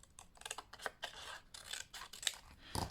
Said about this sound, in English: And then I can cut these two pieces out